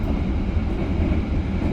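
A business class passenger train on a Java railway, nearing Tegal station: a steady, loud rolling rumble from inside the carriage, with a dense low drone that continues unbroken and no voices.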